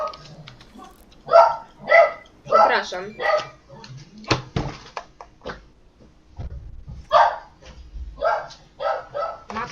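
Small dog barking and yipping in repeated short bursts close by during a gaming session at home, with someone talking in between.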